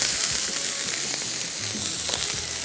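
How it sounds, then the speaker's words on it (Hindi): Garlic and ginger fry lightly in a hot pan, a steady close sizzle with faint crackles and light stirring, no voices. "लहसुन अदरक को हल्का सा फ्राई करना है, ब्राउन नहीं करना है"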